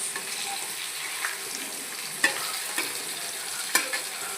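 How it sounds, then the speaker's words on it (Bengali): A steady sizzle of spiny gourd frying in a pan, with occasional scraping clicks of a utensil stirring, no voices. "কাঁকরোল ভাজা হয়ে গেছে"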